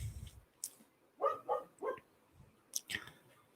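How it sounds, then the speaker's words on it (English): A dog barks at a neighbor's dog, giving three close, sharp barks in quick succession, then a couple more after a short pause, against a quiet indoor background. "My dog's just barking at my neighbor's dog."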